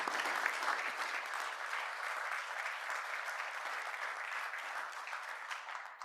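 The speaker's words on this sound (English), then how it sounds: "Could we give them a round of applause?" An audience at a commission meeting claps for colleagues' promotions and appointments, the applause dense and steady from start to finish.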